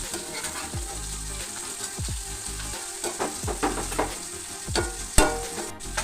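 Okra pieces frying in a pan while being flipped over, a steady close sizzle broken by repeated scraping and clattering turns of a utensil, with no talking.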